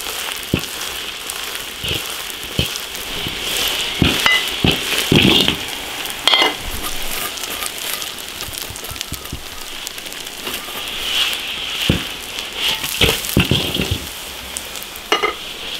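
Potato cakes sizzle steadily in a pan over low heat with a soft crackling hiss, broken by occasional sharper pops and clicks of a utensil, close and continuous.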